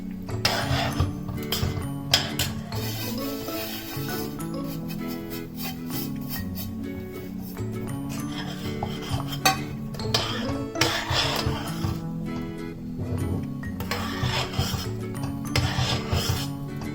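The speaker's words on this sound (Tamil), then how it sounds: "இப்ப அடுப்பை சிம்ல வச்சுட்டு நம்ம ரவையை கட்டிப்படாம கிண்டிக்கலாம்." A spoon scrapes and rubs around a pan as semolina is stirred into boiling water, with intermittent metallic scraping strokes and clinks, fairly faint, over a low background hum.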